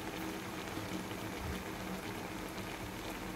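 Vinegar for paksiw boils in a pot, a faint, steady bubbling simmer that runs evenly from start to finish, with no voices.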